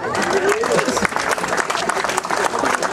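A crowd applauds with dense, steady clapping at the opening of a fast-charging station in Blumenthal, Germany, while a voice calls out briefly over it.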